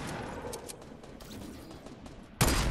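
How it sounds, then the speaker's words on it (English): Video game AR rifle fire: a busy clatter of rapid shots through most of the stretch, ending in one loud, sharp burst at the close. "I shot that guy so much times"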